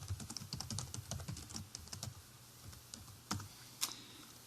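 Rapid typing on a computer keyboard while entering data into a form, dense bursts of close, crisp key clicks at first, then thinning to sparse scattered taps, with no voices.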